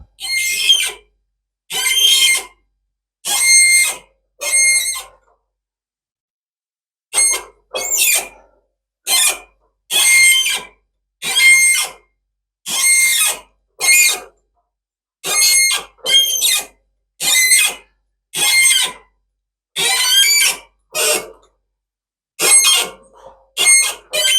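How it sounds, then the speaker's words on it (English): A non-ferrous metal nut squeaks while being tapped, producing a long run of short, sharp, high-pitched squeals in regular bursts with brief pauses, loud and close with no talk. "I hear it squeaking. Non-ferrous metals tend to do that."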